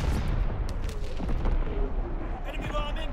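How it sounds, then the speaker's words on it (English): Enemy artillery in a WW2 video game, heavy rumbling booms and explosions rolling continuously, loud and close, with game voices talking over the bombardment. "Incoming enemy artillery."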